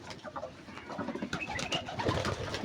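Giribaz pigeons kept loose inside a loft room coo in soft, overlapping rolling calls, growing slightly louder toward the end.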